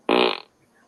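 A fart sound effect played through a Google Assistant smart speaker: one loud, buzzy, close blast lasting under half a second, then a quiet fade.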